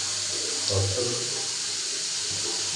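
Water is poured in a steady, close stream for a few seconds while cleaning a Grohe wall-mounted concealed flush tank, with a soft splashing swell near the start. No voices.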